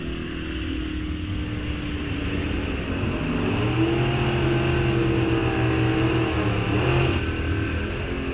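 A 1929 Studebaker drag racing at Rock Falls Raceway roars loudly and steadily, its engine note climbing as it pulls down the strip, with no pause in the drone.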